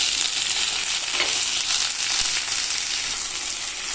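Chopped medium tomatoes and onions sautéing in a hot pan for a vegetable kurma, giving a steady, close sizzle and crackle with a few faint stirring scrapes and no talking.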